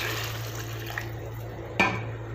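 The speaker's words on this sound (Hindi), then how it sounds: "अब इसमें हम डालेंगे थोड़ा सा पानी।" A small amount of water is poured into chicken butter masala cooking in a pan, a soft splash and trickle ending in a sharper splash near the end, heard over a steady low hum.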